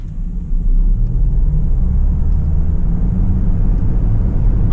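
A 2027 Mercedes GLC AMG accelerates hard from a standstill to 60 mph, heard from inside the cabin as a loud, heavy, steady engine roar that builds suddenly and then holds smoothly.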